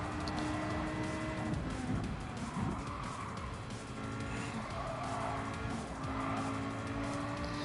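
A race car in the Gran Turismo video game drives hard, with a continuous engine roar and repeated tire squeals and skids through corners, loud and close, with no talking.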